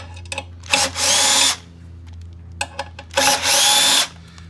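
A power driver spins out 1/4-20 lock socket cap screws on top of a GrowoniX EX1000 Deluxe unit, in two loud, sustained whirring bursts, each with short clicks and taps before it.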